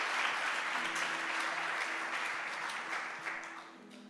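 Church congregation applauding in a hall, steady dense clapping from many hands, fairly loud and continuous, easing slightly toward the end.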